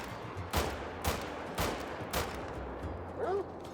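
Four sharp SKS rifle shots crack out at a steady, even pace in the hunting game Call of the Wild, each with a short echoing tail, followed by a brief animal call.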